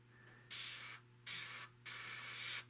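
An airbrush lays a thin coat of black paint over rivet detail and panel lines on a 1/32 Hasegawa Hellcat model. It comes as three close hissing bursts separated by short pauses.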